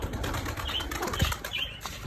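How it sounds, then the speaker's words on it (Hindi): Quick fluttering of wings as a pigeon takes off, brief flapping bursts over a noisy outdoor background. "लो ये वैस भाई ने कबूतर उड़ा दी"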